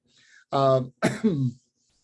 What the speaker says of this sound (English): I need to apologize a little bit for the cough and kind of the hoarseness.